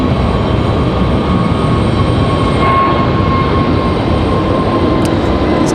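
A Frontier Airlines airliner in the Ted the Turtle livery departs Raleigh-Durham International Airport, giving a loud, steady broadband jet roar with a faint whine that holds throughout, close and continuous with no talk.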